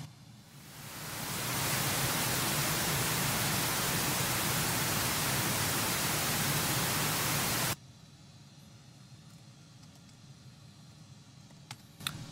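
Loud, steady broadband pink noise test signal played through an audio system during tuning, fading in over the first two seconds and cutting off abruptly near the end, leaving quiet room noise.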